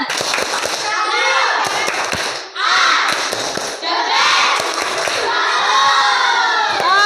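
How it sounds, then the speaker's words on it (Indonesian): A classroom of children doing a rhythmic cheer clap, with loud continuous shouting and chanting voices over scattered claps, close and energetic throughout with brief dips in volume. "Kita beri tepuk salut dulu buat kita semua."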